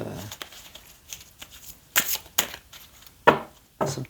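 Playing cards being shuffled and drawn for a tarot fortune-telling reading, a soft run of riffling and sliding with several sharper snaps and flicks as cards are laid down, close and fairly quiet with no talk.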